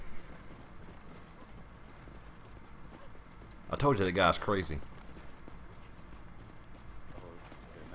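Horse hooves clip-clop in Red Dead Redemption, a brief rapid burst of galloping steps drawing close and loud midway, with someone talking over quiet game ambience before and after.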